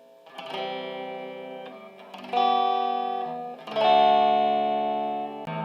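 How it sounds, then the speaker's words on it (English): Three sustained distorted chords ring out one after another on a vintage Hagstrom II electric guitar, each struck hard and left to hum, with a thick, buzzing overdriven tone. "Alright, so I got the distortion on now."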